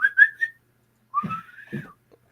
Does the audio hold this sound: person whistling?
yes